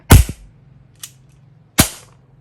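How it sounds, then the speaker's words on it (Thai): A WE, AW or KJ Works gas blowback airsoft pistol firing two sharp, loud cracks about two seconds apart, with a faint click between them and no talk. "เป็นปืนอัดแก๊สที่ แรงนะครับที่แรงอ่ะเดี๋ยวผมเทสให้"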